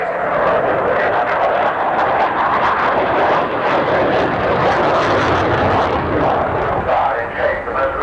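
A Spitfire fighter flies a display at the 1990 Farnborough air show, its engine a loud, steady roar that holds for several seconds with little change in level.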